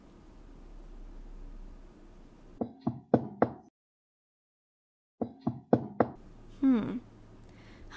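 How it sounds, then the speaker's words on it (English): Knuckles rap on the door of a friend's house in two short bursts of three or four knocks separated by a pause, close and distinct, followed by a brief soft voice-like sound. "And now we just knock on the door, or what?"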